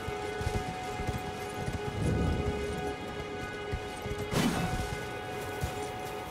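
Rhythmic clopping of horse hooves in Elden Ring, steady trotting under a humming background with a couple of heavier thuds.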